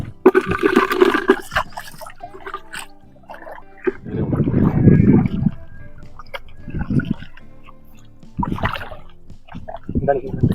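Field crabs washed in water outdoors, with splashing and sloshing bursts of water in short uneven spells, close by, while people talk intermittently over it.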